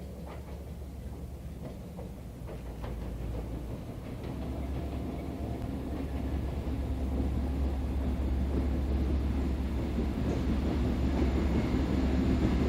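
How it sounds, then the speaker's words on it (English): Reading and Northern locomotives 5018 and 5019 charging through a tunnel, a deep rumbling roar that builds steadily and stays loud, with rattling wheel and wagon noise and no voices. "we first saw Reading and Northern 5018 and 5019 charging through the tunnel"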